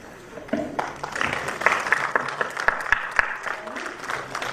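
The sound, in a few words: audience applause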